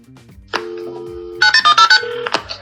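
Phone call placed through Google Assistant to Santa Claus: a short burst of touch-tone dialing beeps, a steady ringback tone, then a rapid run of bright electronic chimes as the line connects, all clear and close with no talk.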